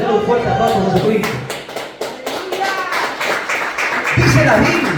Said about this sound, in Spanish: denle un fuerte aplauso a Jesucristo.